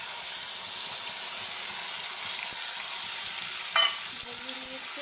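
Mustard paste for Bengali-style hilsa curry fries in a pan with a steady bright hiss, close and even, while one brief clink of a utensil stands out near the end; nobody speaks.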